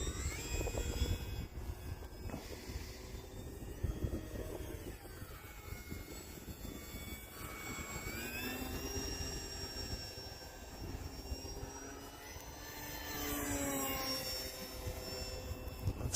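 A radio-controlled Tundra model airplane flies in wind over snow, its engine droning steadily as it climbs and turns and its pitch rising and falling with speed, with wind noise throughout and no talking.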